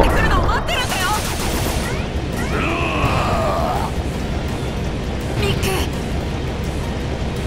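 Shooting in the video game Mighty No. 9 forms a dense, continuous rattle of rapid fire under game music and effects, steady and loud throughout, with someone talking over it.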